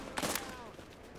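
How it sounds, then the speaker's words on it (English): A sniper rifle fires in the video game The Division, one sharp broadband crack followed by a brief decaying echo, moderately loud within a short burst of game action. "this sniper rifle actually does pretty damn good damage"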